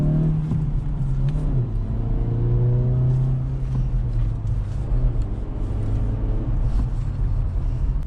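A 2024 Acura Integra shifted into reverse and rolling backward, a steady low engine hum and drivetrain whir heard from inside the cabin, with the pitch easing down partway through.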